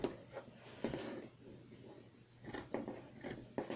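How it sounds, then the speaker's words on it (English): Scissors snip fabric while trimming a makeup bag, giving a handful of sharp, close cuts spaced irregularly with brief pauses between them. "So a few little snips."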